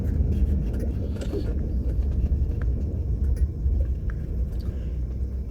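A series 1 Jaguar XJ6 Daimler Sovereign engine runs while warming up, a continuous low, heavy rumble heard from inside the car, steady and close throughout.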